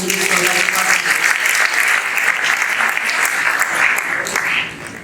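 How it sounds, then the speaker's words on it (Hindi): Hearty applause from a large crowd at a kavi sammelan poetry gathering, a dense, loud, sustained roar of clapping that tapers off in the last half second. "एक बार तालियां बजाकर"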